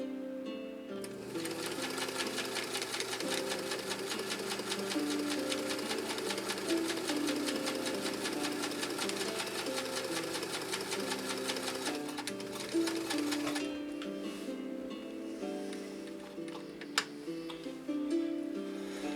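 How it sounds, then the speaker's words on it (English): A Kenmore sewing machine runs a 3-point zigzag stitch through four layers of heavy-grade denim, a steady rapid mechanical chatter that goes on for most of the stretch, then drops to a quieter hum near the end. "Let's do this 3-point zigzag, and then we'll launch into some of these other stitches on these 4 layers of heavy grade denim"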